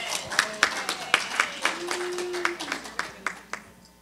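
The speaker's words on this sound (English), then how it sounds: "Round of applause for Yvonne" Scattered claps from a small seminar audience ring out in uneven bursts, with a faint background tone and a short cheer or voice in the middle.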